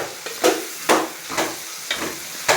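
Ground masala paste fries in a pan, with a soft sizzle under five regular, close stirring strokes that scrape about every half second.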